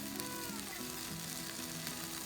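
Beef sizzles and fries in a pan on a camp stove by Georgian Bay, with a steady close crackle running on and never pausing.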